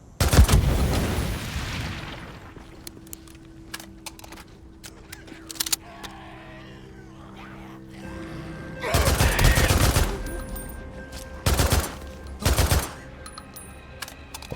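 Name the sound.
gunfire in the video game Days Gone Remastered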